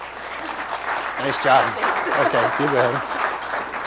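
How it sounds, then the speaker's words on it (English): Conference audience applauds at a transportation conference, a continuous rush of many hands clapping throughout, with someone speaking briefly over it. "If we could give Pat a round of applause."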